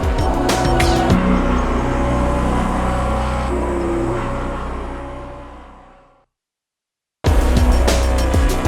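Formula Junior race car engine roaring loudly through Lodge Corner, a sustained buzzing drone that fades away, then a short silence before another loud burst of engine noise cuts in abruptly.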